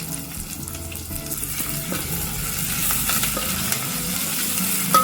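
Ginger, garlic and tomato frying in a pan while being stirred, giving a dense continuous sizzle with scraping and stirring strokes throughout.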